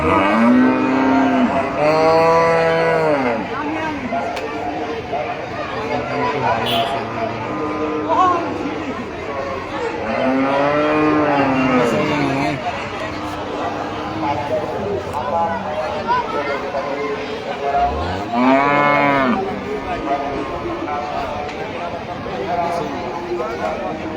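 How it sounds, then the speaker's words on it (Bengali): A cow mooing repeatedly outdoors, several long loud close calls spread across the stretch, with people chattering in the background. "একটা গরু আছে।"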